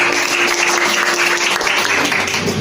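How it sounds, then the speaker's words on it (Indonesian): Applause from a classroom of students fills the space, a steady dense patter of many hands clapping together at close range with no pauses. "Tepuk tangan untuk yang..."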